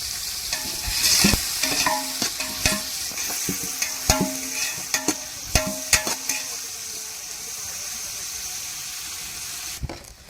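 Onions and cinnamon fry in oil for biryani, a steady close sizzle broken by a series of sharp clinks and scrapes of a spoon stirring in the pan.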